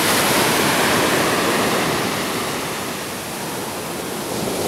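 Seawater surging under a rising tide, a loud continuous wash of surf close by, dipping slightly midway before swelling again, with no voices.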